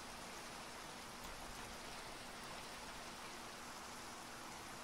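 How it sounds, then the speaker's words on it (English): Steady, faint hiss of rain falling in the Minecraft game, a continuous even wash with no other sounds. "I really hope we can do this while it's raining"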